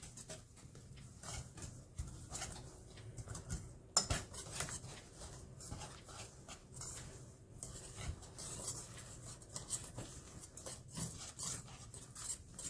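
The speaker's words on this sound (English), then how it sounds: "And I'm going to start whisking." Flaxseed bread batter mixed with vinegar is whisked in a bowl, giving faint, irregular scraping and clinking strokes, quiet and close, with an occasional sharper tap.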